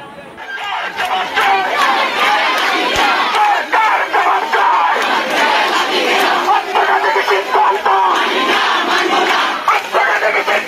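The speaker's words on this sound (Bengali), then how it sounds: "ইউনুসের বিরুদ্ধে সেন্ট মার্টিনে বিক্ষোভ দেখাচ্ছেন বাংলাদেশে।" Protest crowd on Saint Martin's Island, Bangladesh, chanting loudly and continuously, many voices shouting together in rhythmic bursts, close and dense throughout.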